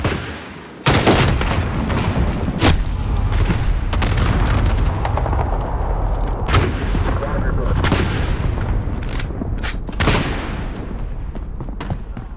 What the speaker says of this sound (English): Enemy cluster strike incoming.